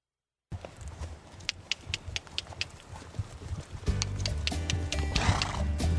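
Horses and mules on a Grand Canyon mail route, with a whinny, clip-clopping hooves and scattered knocks, then a louder, fuller outdoor stretch near the end.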